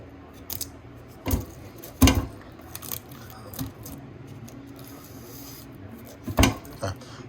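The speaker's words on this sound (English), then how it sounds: "So let me go ahead and test it with a knife." A knife pokes into a baked potato, giving several sharp scraping stabs and soft rubbing contacts spaced irregularly, close and fairly quiet with no talking.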